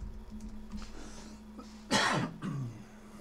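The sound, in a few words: coughing and throat clearing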